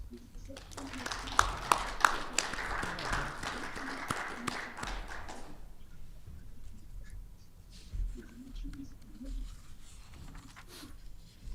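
A Marine Corps logistics awards ceremony audience breaks into a round of applause for several seconds, crisp claps at moderate distance, before it stops and a voice talks over a quiet room.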